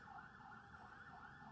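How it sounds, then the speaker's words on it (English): A wailing emergency siren rises and falls steadily, sounding distant across a city, with no voices. "Sirens in the city,"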